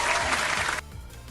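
Studio sitcom-style crowd applause, a dense burst of clapping that cuts off abruptly partway through, leaving a low background hum.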